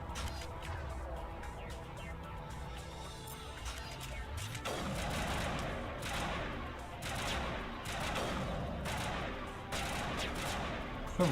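Gunfire in the video game Mass Effect 1 on Eden Prime: repeated bursts of shots and impacts growing louder after the first few seconds, mixed with game sounds and a voice talking.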